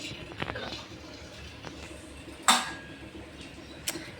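A few sparse metal clinks as pots and utensils are arranged in a home kitchen: one sharp clatter midway and a lighter one near the end, over quiet room noise.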